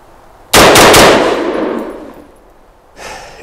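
A spent brass casing ejected from a CETME LC rifle strikes gravel with a sharp, loud metallic clang and several rapid rattling bounces, ringing off over about two seconds, followed by a fainter clink.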